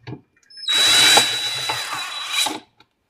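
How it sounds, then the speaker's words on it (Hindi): A cordless drill fitted with a flexible shaft attachment whirs steadily for about two seconds while backing out a screw, close and loud, with a brief faint mechanical tick before it starts and a short clunk as it stops. "इस शाफ्ट की मदद से हम इस स्क्रू को बड़े आराम से खोल सकते हैं।"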